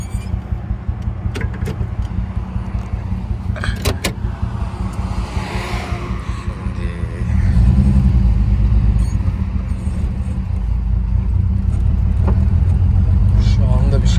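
A 1967 Chevrolet Impala engine with oil-fouled spark plugs and timing problems idles close by with a rough, uneven rumble and occasional clicks, growing louder and deeper about halfway through as it revs.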